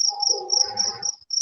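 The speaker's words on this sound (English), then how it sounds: "Sound the crickets." Crickets chirp in a steady high-pitched pulsing trill, with a voice speaking briefly underneath partway through.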